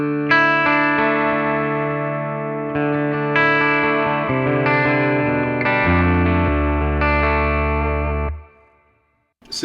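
Guitar played through a BOSS Nextone amp set to a transparent tone on its 6V6 power amp stage rings out in sustained chords that change every second or so, clean and fairly loud, fading to silence at the end.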